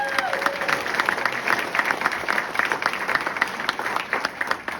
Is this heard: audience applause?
yes